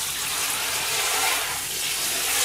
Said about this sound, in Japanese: しめさばはさっと洗って焼き始めましょうか